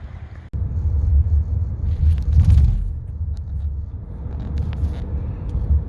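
A car holding a steady 40 mph on cruise control gives a continuous low road and engine rumble from inside the cabin, with a brief thump near the start and no speech.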